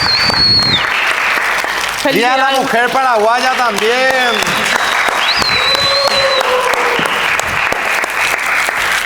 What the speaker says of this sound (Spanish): aplausos para nuestra bartender.